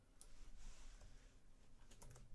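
Typing on a computer keyboard while entering a YouTube video title, a steady run of soft, quiet key taps that stays close and low in level, with no talk over it.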